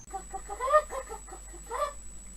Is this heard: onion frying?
no